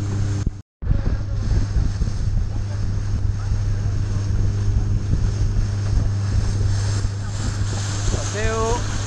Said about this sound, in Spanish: Paseo en lancha en el PNAPM arrecife de Puerto Morelos